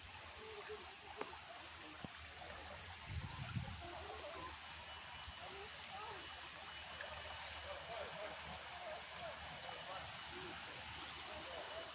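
Soft, steady rush of a flowing stream in a botanical garden, faint and continuous, with a few small knocks and a brief voice underneath.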